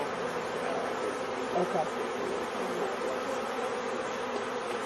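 A honeybee swarm hums in a steady, dense drone close by, filling the whole stretch without letup, while a voice speaks a single brief word.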